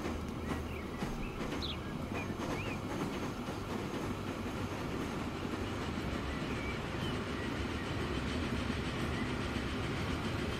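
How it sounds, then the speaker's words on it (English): The LNER Mallard steam locomotive in Transport Fever 2 runs with a steady, dense rolling rumble and faint clickety-clack of wheels, continuous and fairly close, with no talk. "It's the first time that we have that train. The Mallard."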